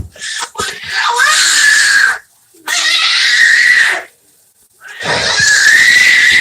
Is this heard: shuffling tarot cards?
no